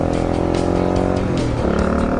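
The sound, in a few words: 2004 Honda XR400R dirt bike at wide open throttle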